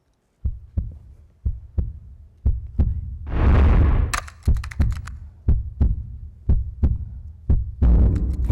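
A steady heartbeat thumps at an even pace throughout, with a swelling rush of noise in the middle and sharp crackles over the beats.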